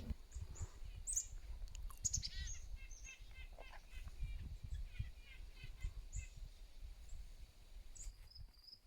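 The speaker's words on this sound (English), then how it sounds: "I believe this is a bird" Outdoors at Big Salmon Lake in Frontenac during fall, a bird gives a series of high, quick chirping calls clustered in the first few seconds, over a soft rumbling wind-like background.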